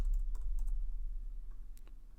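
Typing on a computer keyboard, a quick scatter of light key clicks over a low steady room hum, close and fairly faint.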